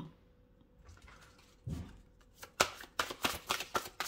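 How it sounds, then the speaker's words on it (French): Oracle cards shuffled and drawn, a few soft slides followed by a quick run of crisp riffling flicks, close and quiet with no talking. "j'avais envie de prendre 2-3 cartes de celui-là, 3 cartes de l'archange Gabriel pour vous"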